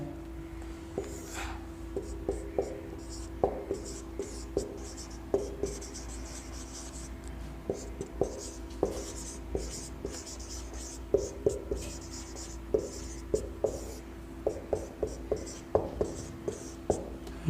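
A pen or chalk taps and scratches steadily across a board while chemical element symbols are written out in a chemistry lesson, giving a long run of close, evenly spaced strokes.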